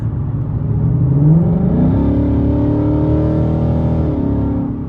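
A 2019 Ford Mustang GT with a 10-speed automatic transmission accelerates hard, its loud, steady engine drone climbing in pitch, with a shift near the two-second mark.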